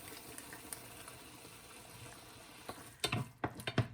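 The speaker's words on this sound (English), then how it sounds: "you can add some more water by rinsing the bowl of the mushroom sauce" Water is poured from a rinsed mushroom-sauce bowl into homemade garlic sauce to thin it, a soft trickle at first, then a few louder splashes near the end, quiet and close with no talking.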